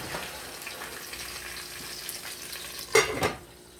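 Pasta primavera vegetables cooking in a pan give a soft, steady sizzle close by, with a brief louder burst of frying or stirring near the end before it settles again.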